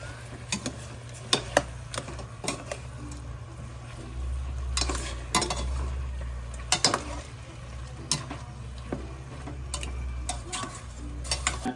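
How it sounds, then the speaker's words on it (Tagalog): Pork sinigang being stirred in a pot, with repeated clicks and scrapes of a utensil against the pot over a low steady hum, moderately close with no talking. "At atin pong hahaluin."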